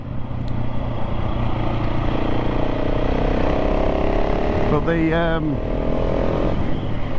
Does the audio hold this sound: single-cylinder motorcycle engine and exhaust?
yes